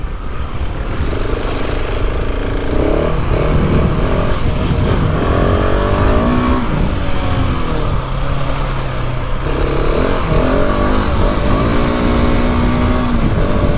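A KTM 690 Enduro R single-cylinder enduro motorcycle engine (2019) revs hard and continuously, its pitch climbing and falling through repeated throttle blips, loud and close throughout.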